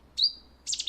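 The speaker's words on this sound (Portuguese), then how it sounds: "Eu vou passar outra vez para se ouvir novamente a sequência do rouxinol bravo" Cetti's warbler song, a single thin high whistle followed by a brief explosive burst of chattering notes, close and alone in quiet surroundings.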